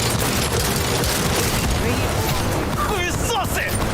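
Rapid automatic gunfire in the video game Cyberpunk 2077, a dense loud burst of shots layered with mechanical clatter and game effects, continuous across the clip.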